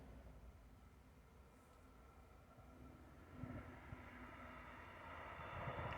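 A train rumbles past, a broad low roar that stays steady and then swells louder toward the end as it draws closer, with no voices over it.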